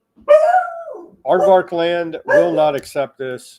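A security dog barks and yips several times in quick bursts, fairly close and loud, with someone speaking in between.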